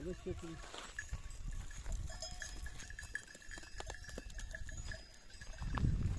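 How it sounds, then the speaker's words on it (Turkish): Goats on a large goat farm bleat one after another close by, mixed with faint bell clinks and hoof shuffling, while someone talks over the herd. "bu bir dağ keçisi değil arkadaşlar, normal keçi"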